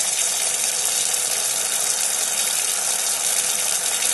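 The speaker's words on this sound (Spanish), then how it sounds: "El grifo se abrió." Steady rushing water pours continuously, a broad hiss like a tap running full, with no pauses or voices.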